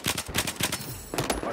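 Rapid bursts of close automatic gunfire crackle from the video game Battlefield 4, dense and loud with a brief lull before another burst.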